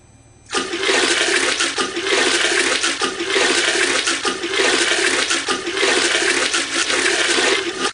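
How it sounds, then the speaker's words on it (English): A toilet flushes loudly and close, sending leftover pasta down with a sudden rushing surge of water that churns steadily for several seconds. "Hurl it in the turlet, chuck it in the loo, slog it in the bog"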